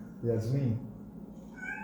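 A pet cat meows indoors in a short, close, drawn-out call, with quiet room tone around it and no talk over the meow.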